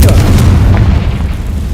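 Confringo blasting spell explosion in the Hogwarts Legacy video game, a loud, dense boom that fills the whole moment and rolls on with a rumbling, crackling tail.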